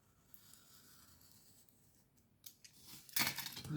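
Scissors cut paper embellishments at close range in a quiet room: a few faint snips, then a louder cluster of crisp cuts near the end. No talking.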